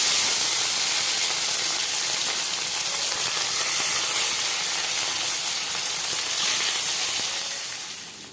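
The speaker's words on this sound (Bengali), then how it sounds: "এবার এর মধ্যে আমি এক এক করে মাছের পিসগুলো দিয়ে ভেজে নেব" Pieces of fish frying in hot oil in a home kitchen, giving a steady, loud, dense sizzle with spitting crackle that holds evenly throughout, then fades slightly at the end.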